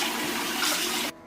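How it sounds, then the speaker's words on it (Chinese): Pork intestine being rinsed and scrubbed by hand in water with starch and rice vinegar, a steady close splashing and running-water wash that stops abruptly near the end. "粉肠剥去油脂了之后，我们来清洗一下，加入1大勺淀粉，多一点的米醋，然后里里外外给它抓洗干净。"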